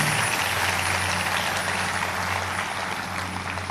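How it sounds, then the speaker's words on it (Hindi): A crowd at a Hanuman temple festival gathering claps together loudly and steadily, the dense applause filling the space without a break over a low background hum. "जोरदार एक बार हनुमान जी के दरबार में ताली बजाइए"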